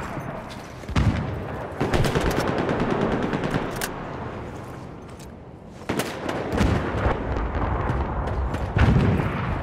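Enemy machine gun fire in Battlefield 1 on the Nivelle Nights map crackles in rapid bursts amid booming explosions and battlefield roar, loud and continuous with sharp sudden blasts, no talk over it.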